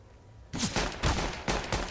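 Pistol-round gunfire in a Counter-Strike match on Anubis: sharp shots in four quick bursts spaced roughly half a second apart after a quiet start, fairly close and loud, with no talk.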